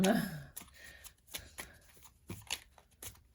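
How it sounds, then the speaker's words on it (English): Cards are shuffled close by in quick, crisp riffling bursts with soft slaps between them, fairly quiet. "Okay, you want to be shuffled because the cards aren't"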